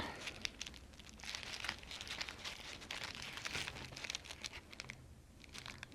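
Paper pieces being folded and glued while decorating a Christmas gift bag, close crinkling and rustling handled in bursts with short quieter pauses.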